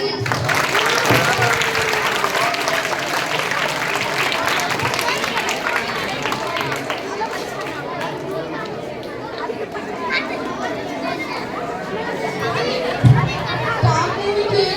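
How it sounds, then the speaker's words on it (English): Applause and crowd chatter from students at a Saturday school quiz, a dense, steady wash of clapping mixed with children's voices that thins out toward the end. "Clap for them, please."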